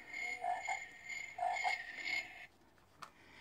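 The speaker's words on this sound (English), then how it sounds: "You can put it on just light or light and the frogs." A toy camping lantern for kids plays recorded frog croaks, a few bursts of electronic croaking and chirping over a steady hiss, then stops abruptly with one small click afterward.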